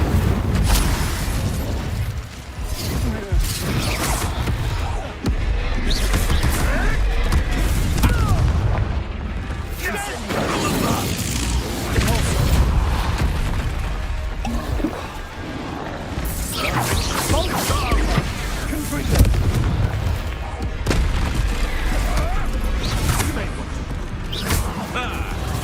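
Confringo blasting curse explosions from the Hogwarts Legacy video game: repeated booming blasts and bursts thick with dense, loud combat noise, with voices speaking over the barrage throughout.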